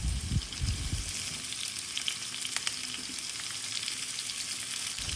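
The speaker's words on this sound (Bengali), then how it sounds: "তেল গরম হয়ে গেলে কেটে রাখা পেঁয়াজগুলোকে তেলের উপরে দিয়ে দেব" Chopped onions and tomatoes sizzle in hot oil in a pan, a steady close crackling fry with a few louder spits near the start, no voices.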